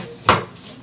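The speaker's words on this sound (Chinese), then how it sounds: "切点葱段" A single sharp knife chop through scallions on a cutting board in a home kitchen, one crisp close knock, brief and alone.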